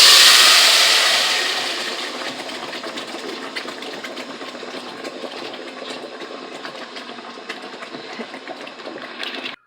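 Salsa hits hot oil in a cooking pot and sizzles: a loud burst of frying hiss at first that eases within a couple of seconds into a steady, crackling sizzle, with no talking.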